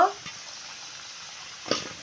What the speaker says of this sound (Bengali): আলুগুলো ভাজা হয়ে গিয়েছে